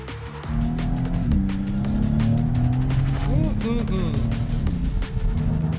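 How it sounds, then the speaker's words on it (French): A Maserati MC20 six-cylinder engine revving high, to about 7800 rpm, with a steady, buzzing drone that rises and falls, loud and close throughout. "un 6 cylindres qui est allumé, qui est tout là, qui révolutionne assez haut"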